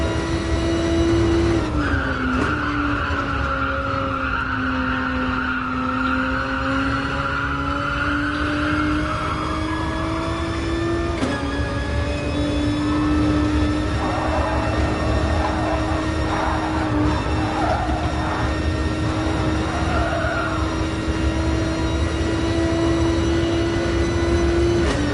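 Tyres skid and squeal continuously through a Gran Turismo Sport race at Kyoto Driving Park, with engine tones rising and falling underneath, loud and sustained throughout.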